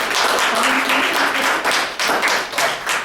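Applause from an audience at a public event, a brisk burst of many hands clapping close by that swells and fades in waves for a few seconds.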